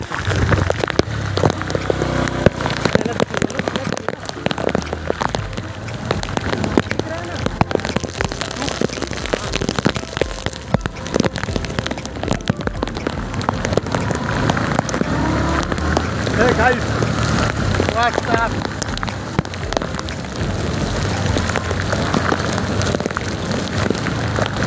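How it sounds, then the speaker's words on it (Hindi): Steady rain pattering densely on surfaces by the Mahanadi river in Janjgir-Champa, Chhattisgarh, with a vehicle rumble underneath and voices talking at times. "बारिश का मजा ही और बारिश में भीग रहे हैं हम लोग"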